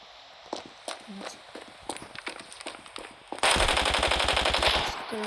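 Automatic gunfire in the Standoff mobile shooter game: scattered single shots during a round, then a loud sustained burst of rapid fire in the final seconds, with faint voice in the background.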